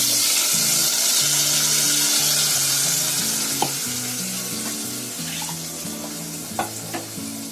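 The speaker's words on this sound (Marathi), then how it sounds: "चला आता त्याच्यामध्ये ही ग्रेव्ही टाकते" Fish curry gravy hits a hot clay pot and sizzles loudly and continuously, with a few faint clinks of stirring near the end.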